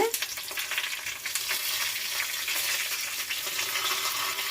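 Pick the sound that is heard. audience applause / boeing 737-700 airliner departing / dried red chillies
dried red chillies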